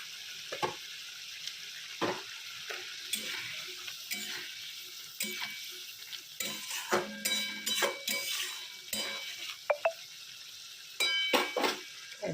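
Fish frying in a pan for a quick Bengali fish posto dish, a steady sizzle broken by sharp clinks and scraping of utensils, close and fairly loud, with no talking.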